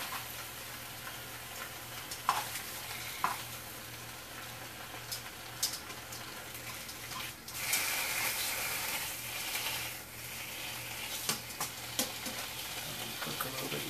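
Italian sausage fries in a pan with a steady loud sizzle and crackle, broken by occasional sharp taps and stirring scrapes, continuous from start to finish.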